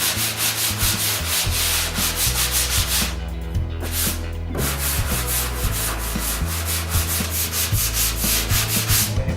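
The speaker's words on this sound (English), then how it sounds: "I'm going to use a sanding block here." A sanding block rubs steadily over a drywall patch on a wall, with rapid, even back-and-forth scraping strokes, close up and continuous with a brief pause partway through.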